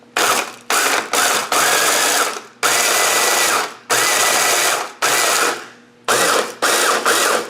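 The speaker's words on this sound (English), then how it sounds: "I'm going to use this little food processor thingamajigger here that connects to my guy right here" A small electric food processor attachment runs in a series of loud, close whirring pulses, about eight short bursts separated by brief pauses.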